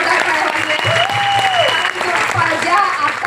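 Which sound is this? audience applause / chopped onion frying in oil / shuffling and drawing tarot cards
audience applause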